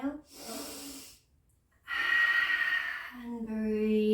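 Deep inhale and exhale during a full moon yoga session, a long audible breath in followed by a pause and another forceful breath, with an instructor's voice speaking around it.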